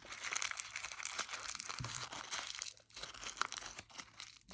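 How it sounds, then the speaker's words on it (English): Thin paper coffee filter being folded and creased into a cherry blossom, giving soft close crinkling and rustling with short crisp crunches, steady throughout with no talk. "your quarter piece of coffee filter, fold up into thirds, back down again, press into crease"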